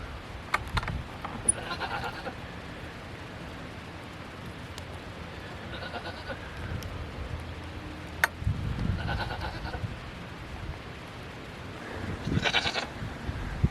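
Goats bleat now and then on a farm in cold weather, several short calls spread out over steady outdoor background noise, some closer and some farther away, with no talking.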